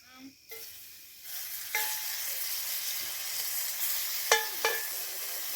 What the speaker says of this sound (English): And it's that chicken sizzle.